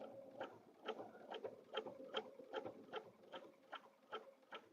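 A sewing machine stitching at 2.5 stitch length through a quilted sandwich for an outdoor door sign, a quiet rhythmic ticking patter of needle strokes at a steady, slightly uneven pace.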